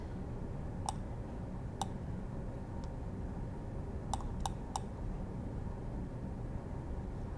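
Faint, sharp computer mouse clicks, about seven of them, come at irregular intervals over a steady low background hum, some landing in quick pairs.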